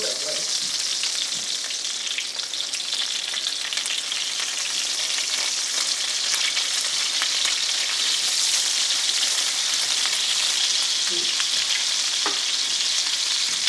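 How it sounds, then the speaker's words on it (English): Salisbury steaks sear in hot tallow in a skillet, giving a steady, loud, dense frying sizzle with crackling pops throughout and no talking. "It's all that fat caramelizing."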